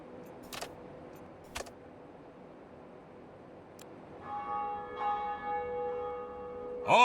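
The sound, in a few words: church bells tolling in the video game Rail Route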